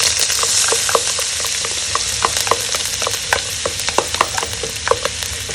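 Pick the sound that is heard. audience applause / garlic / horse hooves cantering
garlic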